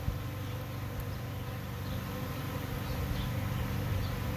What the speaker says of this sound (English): Tiny little swarm showed up.